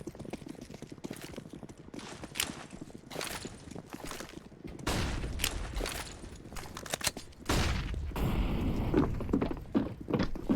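Gunfire in a tournament video game match, irregular single shots and short bursts with thuds, mid-loud and intermittent, growing busier toward the end.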